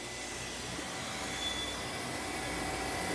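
A freeze dryer valve opened to release vacuum pressure, a steady airy rushing hiss that swells slightly over a few seconds, close and even, with no talking.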